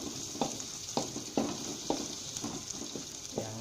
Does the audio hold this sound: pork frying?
yes